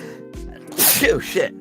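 A single sharp, breathy sneeze bursts out at close range, and a voice talks right around it.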